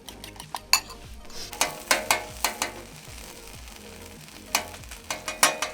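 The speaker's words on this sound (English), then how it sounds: "I cracked 3 other eggs into a bowl and I'm just whisking them up" Three eggs whisked in a bowl outdoors beside a PitBoss flat top griddle where chorizo cooks, heard as bursts of quick, rhythmic clicking and scraping at the start and end, with a steady sizzle-like hiss underneath.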